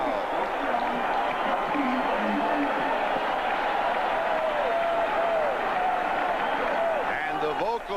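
UCLA Bruins fans in a stadium crowd at the 1985 Fiesta Bowl against Miami, cheering and clapping as a steady, dense roar with whistles and shouts, heard from a distance under a commentator's voice.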